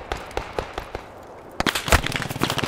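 Gunfire in the World War II shooter Squad 44, scattered sharp shots early, then a denser cluster of rapid bursts in the second half, mid-distance and fairly loud.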